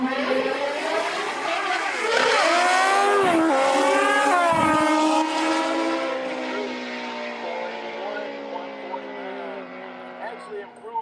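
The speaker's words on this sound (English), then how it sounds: "She's running the Suzuki Pro Mod, old Pro Modified, that's in 460." A Suzuki Pro Mod drag racing motorcycle with a roughly 1640cc engine running on nitrous roars down a drag strip in Adel, Georgia. The loud, sustained engine note climbs and sweeps in pitch, then slowly fades.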